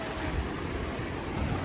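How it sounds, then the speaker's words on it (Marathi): Ocean surf breaks on the beach at Alibag in a steady broadband roar, with wind buffeting the microphone throughout and no talking. "काय लाटा यायला आलं"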